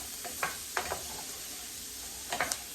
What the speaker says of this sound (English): all I'm doing is just making sure my cauliflower is getting sauteed very well